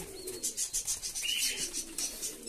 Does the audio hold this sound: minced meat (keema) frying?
no